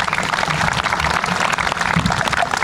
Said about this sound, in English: If we could just get another round of applause for our mayor.